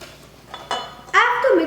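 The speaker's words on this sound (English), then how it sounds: "let's mix the butter and the sugar together until they're fluffy" A utensil clinks and scrapes in a bowl as butter and sugar are mixed together, with a few distinct knocks, followed by a voice at the end.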